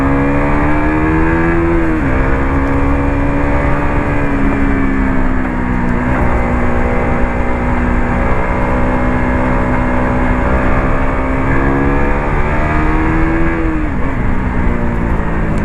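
A KTM RC 200 motorcycle from 2018, ridden in city traffic, accelerates hard, its engine note climbing and dropping through gear changes with a loud, buzzing whine that stays close and continuous.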